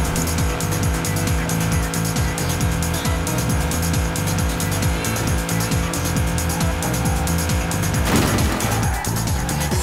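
A 1953 Chevy Corvette engine in Forza Horizon 4 drones loudly and continuously with repeated rhythmic pulses as it drives, tires squealing in a skid near the end, with no talk.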